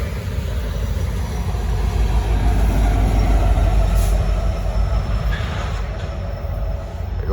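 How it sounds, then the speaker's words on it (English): A fast Norfolk Southern freight train with distributed power units rushes past close by in a loud, continuous roar of rumbling wheels and rail noise, holding strong throughout. "This train's going fast."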